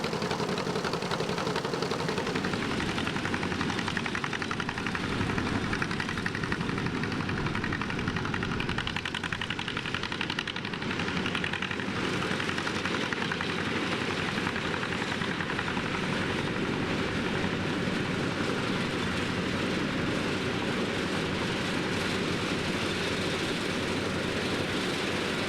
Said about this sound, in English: This is Greg Linder pulling a 2-row picker, a new idea.